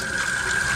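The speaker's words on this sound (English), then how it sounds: "once I get this tap going" Tap gushing water into a bucket, a loud close steady splashing rush with a bright ringing tone, heard alone for under a second.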